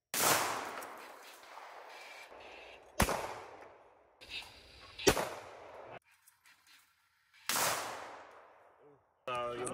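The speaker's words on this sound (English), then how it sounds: "one of us will do the traps and then the other one will shoot" Shotguns fire at clay targets during trap shooting, several sharp close blasts each followed by a decaying echo, spaced a second or two apart, with quiet gaps between shots.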